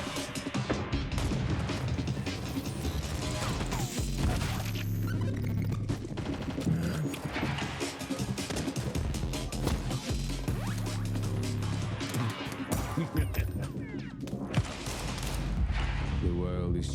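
Counter-Strike 2 match gunfire during a regional esports tournament shows as scattered shots and bursts mixed with clatter and impacts, heard under continuous commentary voices throughout.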